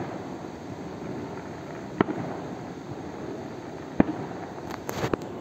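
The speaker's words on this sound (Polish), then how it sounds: "już koniec tego nagrywania innych fajerwerków, tylko sami odpalamy" Fireworks are set off outdoors on New Year's Eve eve, with a few faint, distant pops and crackles rising over a steady background hiss.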